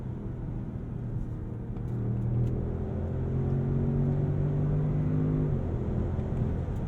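A 2022 Range Rover engine revs up under load, rising in pitch through successive gears as paddle shifts cut in, a smooth close rumble without speech.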